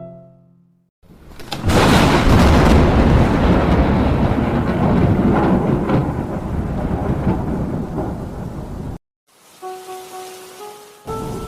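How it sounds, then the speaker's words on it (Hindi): Loud thunderstorm with heavy, pounding rain in Mussoorie, a dense roar of downpour with rumbling thunder that cuts off abruptly, followed by a quieter stretch with faint tonal sounds. "मसूरी में हो रही है धुआंधार बारिश।"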